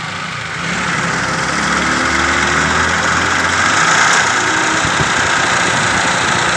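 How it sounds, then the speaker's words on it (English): Toyota Passo engine running steadily up close, with a continuous mechanical hum and whine from the AC compressor layered over the idle, holding constant throughout with no voices. "There is also one compressor noise."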